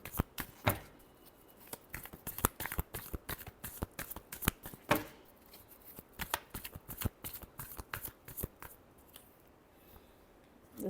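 Tarot cards are shuffled by hand in a quick series of sharp, crisp riffles and snaps, close and fairly loud, with irregular bursts and short pauses between them and no talking.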